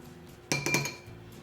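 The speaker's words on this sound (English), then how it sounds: "And then we're just gonna give this a good mix" A spoon clinks a few quick times against a container while lemon juice is mixed into milk to make buttermilk, a short bright burst of taps in a quiet room.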